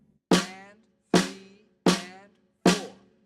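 Four evenly spaced, resonant drum hits with ringing decay, played alone as a simple eighth-note and quarter-note rhythm for a drum notation lesson.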